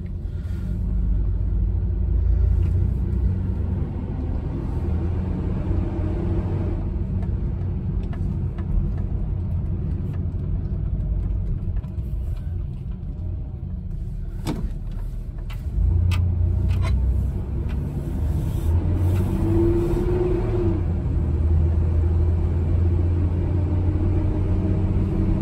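A 1995 Nissan D21 pickup truck driving down the road, heard from inside as a steady low engine rumble and road noise with small shifts in load, continuous and with no talking.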